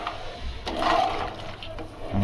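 Water gushes from a vessel into a pot of rice fried with masala for Nilanga rice, a short rushing splash that swells and then eases, heard close with a voice speaking.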